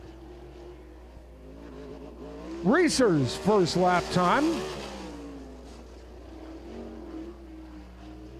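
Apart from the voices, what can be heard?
race car number 35 lapping Lincoln Speedway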